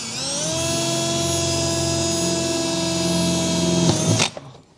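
A power drill enlarges a pilot hole while mounting a custom underbed hitch kit: a steady high motor whine runs for about four seconds, then winds down and stops, close and loud with no talking.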